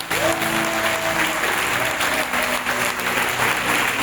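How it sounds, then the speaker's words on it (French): Loud applause and cheering from a charismatic prayer assembly, a dense, continuous roar of clapping hands and raised voices filling the whole stretch, with a sustained vocal cry or tone at the start. "Donne-nous des acclamations."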